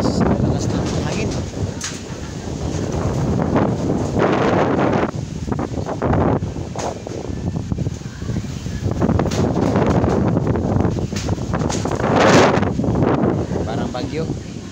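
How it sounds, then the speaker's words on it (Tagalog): Strong storm wind roars and buffets the microphone continuously, with gusty surges and rustling, loud and close throughout. "Guys, lakas ng hangin."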